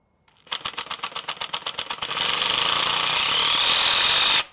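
HART 20V cordless drill driving screws: a rapid series of rattling clutch-like bursts ramps into a steady, loud high-pitched whir that holds for a couple of seconds before cutting off abruptly, close up with no talking.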